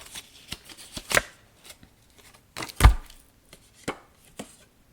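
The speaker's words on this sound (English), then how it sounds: "I'm going to shuffle." A deck of reading cards is shuffled in short, crisp riffles and taps, several separate bursts with quiet gaps between them, close and clear with no talk.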